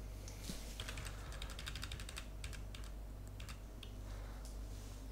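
Computer keyboard keys tapped in quick irregular bursts while using Photoshop, soft clicks clustered together with short pauses, close and fairly quiet over a steady low hum.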